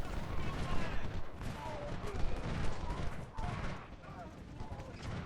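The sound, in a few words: musket and artillery fire in video game Ultimate General: Civil War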